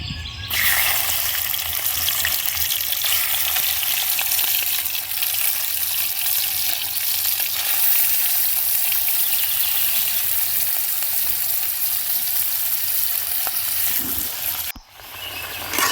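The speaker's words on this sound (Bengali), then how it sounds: "তেলটা গরম হয়ে গেছে, তেলের মধ্যে ঝিনুকগুলো দিয়ে ভেজে নেব।" Oysters frying in hot mustard oil in a heated kadai give off a loud, steady, dense sizzle that holds evenly for the whole stretch, with no voices, before cutting off abruptly near the end.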